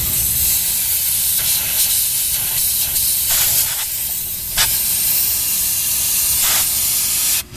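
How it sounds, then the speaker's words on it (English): Compressed air blasts hard into the heater box of a Suzuki Samurai to drive leaves and debris out, producing a loud, continuous broadband hiss with brief surges in intensity and a sudden drop at the very end. "I'm using the air compressor down in here"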